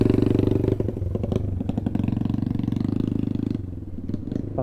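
Suzuki Burgman EX 125 scooter riding over a rough dirt road in the hills of Bulacan, its steady engine drone loud and close throughout, with rattling and clatter from the bumpy surface.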